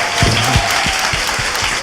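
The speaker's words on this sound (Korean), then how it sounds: "다시 박수." Studio audience giving a brief burst of applause, dense clapping over nearly two seconds with a few louder low thumps underneath.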